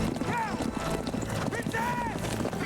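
Horse hooves clip-clop at a steady rhythm in a House of the Dragon episode scene, mixed with background noise and talk.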